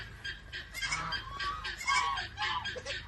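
Agitated geese honk repeatedly at close range, a ragged series of nasal calls overlapping one another in quick bursts, with no talking over them.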